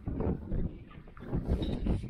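Strong, cold wind gusts outdoors beside water, rumbling low and buffeting the microphone in uneven waves that rise and fall for a couple of seconds.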